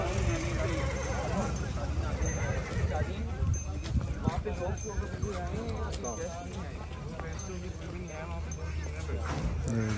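People in a stadium imitate horses, with voices neighing and whinnying in wavering cries over chatter and background crowd noise, repeated throughout.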